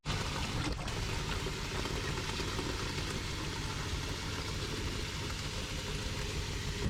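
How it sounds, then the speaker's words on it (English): Water runs steadily into a bucket set in a van sink, a continuous loud rushing pour with a low mechanical hum beneath it, unbroken and alone for the whole stretch. "I just put it in the sink, fill it up until it's full."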